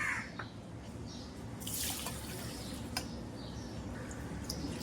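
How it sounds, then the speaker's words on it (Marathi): Rice grains are swished and rinsed in water in a kitchen, with soft sloshing, trickles and occasional drips at close range, and a faint crow calls in the background. "सर्वात प्रथम आपण बघा हे तांदूळ धुवून घ्यायचे आहेत दोन पाण्याने मी धुवून घेणार आहे"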